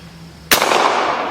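A single sharp rifle shot from an 1860 Henry rifle firing 45 Long Colt cracks loudly at close range, followed by a long echoing decay outdoors.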